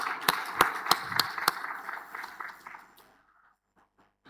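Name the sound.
audience applause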